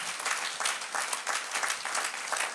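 A church congregation claps loudly and steadily throughout a worship service. The applause is dense and sustained, with no clear talk over it.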